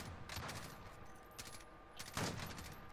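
Bursts of gunfire in the video game Call of Duty Warzone come in a few rapid volleys at a fairly faint level, with the quieter gaps between them filled by game ambience.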